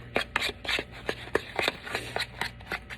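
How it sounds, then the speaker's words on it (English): Crushed cookies, marshmallow and butter stirred together in a bowl, giving a series of soft, scraping, sticky strokes in an uneven rhythm, close up and alone with no talking. "So you want to make sure you stir it and it gets all mixed together."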